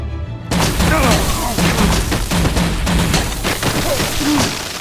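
Heavy gunfire from the Batman: The Enemy Within video game erupts in a loud, dense barrage of booming shots and impacts lasting several seconds, with voices shouting underneath.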